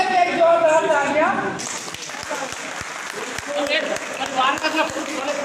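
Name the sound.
applause for a father being honoured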